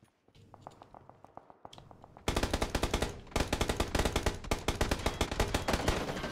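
A suppressed gun fires in a video game during a final-circle fight in a tunnel. Rapid bursts start quieter, then turn louder and denser partway through, with sharp rhythmic reports and no talk over them.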